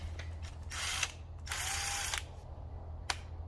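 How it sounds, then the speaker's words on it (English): Bursts from a Milwaukee cordless impact wrench removing the nut on an old starter switch of a Ford Jubilee tractor: two longer whirring runs with a short buzz before them and a sharp click near the end, over a low steady hum. "The good old Milwaukee impact here."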